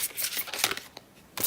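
Tarot cards being shuffled close to the microphone, a soft, quiet run of papery brushing and flicking in uneven bursts, with a short pause before a final flurry.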